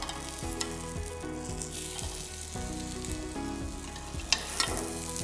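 A vegetable quesadilla sizzles steadily in a hot pan while being grilled on its second side, with a continuous frying hiss, a few soft scraping or stirring touches, and no talking.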